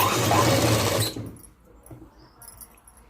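A sewing machine runs a fast, steady stitch along the folded cloth of a long frock for about a second, then stops, leaving faint handling noises.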